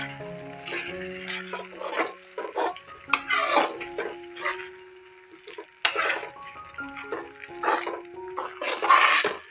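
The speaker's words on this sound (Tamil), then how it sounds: "இப்போ வந்து இதை நல்லா மிக்ஸ் பண்ணிட்டு இருக்கோங்க" A spoon stirs tomato thokku in a pan, giving intermittent scraping and clattering strokes in irregular bursts, close and moderately loud, with other tonal background sounds between them.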